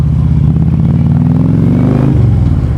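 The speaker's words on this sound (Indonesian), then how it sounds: "Dan ini kedengeran gak sih suara knalpotnya by the way ya?" Harley-Davidson Street Glide motorcycle exhaust rumbling loudly and steadily while riding, the low drone shifting pitch slightly as the engine note changes near the end.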